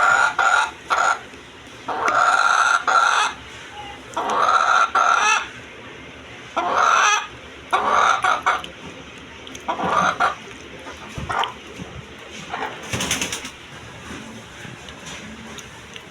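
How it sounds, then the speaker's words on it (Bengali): Fayoumi laying hens on a Bangladeshi farm cluck in loud, repeated bursts with short pauses between, and a rooster-like crow rises among them near the close, with no one speaking. "এই হলো আমার ফার্মি মুরগি।"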